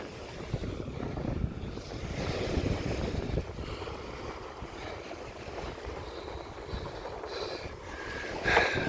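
Waves wash steadily onto Agate Beach on Lake Superior in Minnesota. The wash is a constant broadband roar blended with gusty wind buffeting the microphone, and there is no talking.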